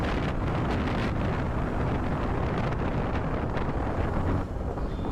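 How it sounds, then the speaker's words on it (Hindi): Strong headwind buffets the microphone on a 2025 Bajaj Avenger 160 Street motorcycle riding in rain, a loud, continuous roaring rumble with no speech, easing slightly near the end. "सामने से हवा बहुत तेज आ रही है, बहुत तेज हवा आ रही है"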